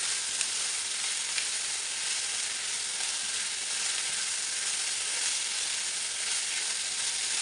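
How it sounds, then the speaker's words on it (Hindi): Onions frying in a pan toward light brown make a constant, even sizzle that holds at the same level throughout, with no voices. "प्याज को हम हल्का ब्राउन करेंगे।"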